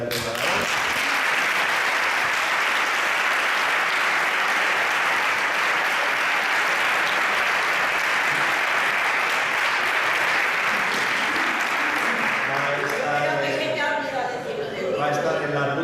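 Sustained applause from a large audience at a talk in Calpe fills the room, steady and loud for most of the clip, then thins out as a voice begins talking near the end.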